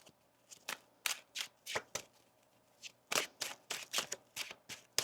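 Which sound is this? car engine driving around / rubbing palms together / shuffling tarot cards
shuffling tarot cards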